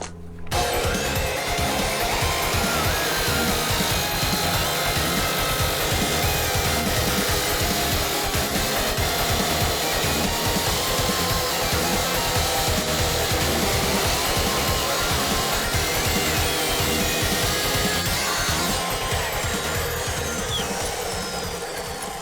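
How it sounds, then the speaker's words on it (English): Cutting disc slicing through clamped steel stock, a loud continuous grinding whine with rough rasping texture, sustained close up throughout with no talk. "it doesn't make a straight cut. The cutting disc actually bends a little bit, and you can see there's a little lip"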